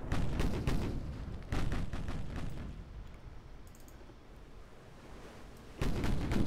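Naval guns firing from a USS Maryland warship in Ultimate Admiral: Dreadnoughts, with two heavy booming salvos separated by a rumbling decay and a third blast at the end, loud and low.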